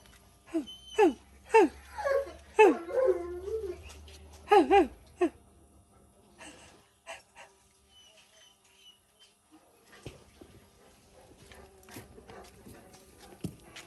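Several sharp yelps and whines from dogs in the first few seconds, fairly close, then quieter scattered rustling and faint clicks.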